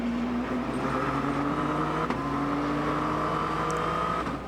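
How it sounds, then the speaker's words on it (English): An HPD race car engine passes at a sports car race, a steady high-pitched howl with a slight pitch shift, loud and continuous for several seconds and with no talk over it. "Now listen to the HPD."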